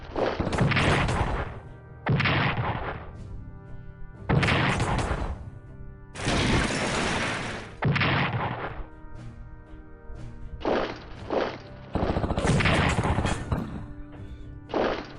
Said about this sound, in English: Defensive artillery! Oh man, they still got wrecked.